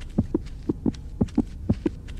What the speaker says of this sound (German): ich höre einen Herzschlag